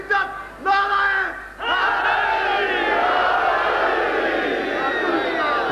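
A large crowd roars a slogan back in unison at a religious gathering, several loud rising shouts in quick succession followed by a sustained collective chant that holds steady for several seconds.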